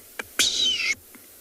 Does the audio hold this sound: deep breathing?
no